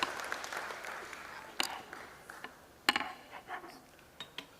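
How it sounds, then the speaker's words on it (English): Audience applause at a freshers' induction ceremony sounds as soft, distant scattered clapping in a large hall, with a few louder isolated claps and clinks. "Let us all join our hands in welcoming sir."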